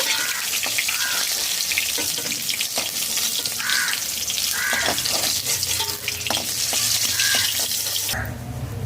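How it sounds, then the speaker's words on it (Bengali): A steady, close sizzle of snakehead fish frying in hot oil in a wok over a medium flame, with occasional light clinks and scrapes from a utensil in the pan. "মিডিয়াম ফ্লেমে পাঁচ মিনিট মাছ ভেজে নিয়েছি"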